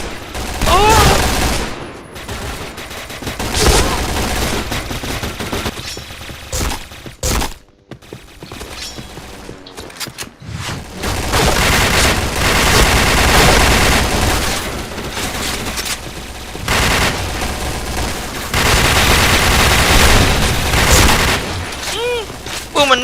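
Pindad SS2 V5 rifle fire in the shooter game Point Blank: loud repeated bursts and rapid volleys with mechanical clicks between them, a short quiet gap midway, then sustained shooting with a voice talking over it.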